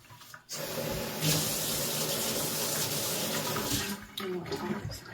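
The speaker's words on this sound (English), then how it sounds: "I like to run my water to do it." Water gushes steadily from a kitchen faucet for several seconds after a brief quiet start, then tapers into lighter splashing near the end.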